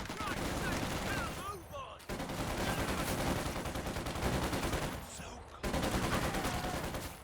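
Company of Heroes 2 battle gunfire: dense, continuous bursts of rifle and machine-gun fire, loud and close, with short breaks and faint voices beneath.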